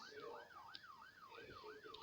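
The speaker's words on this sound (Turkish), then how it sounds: "Aa ambulans." An ambulance siren in Roblox Brookhaven RP rises and falls in quick, regular sweeps, faint and thin, with occasional small clicks.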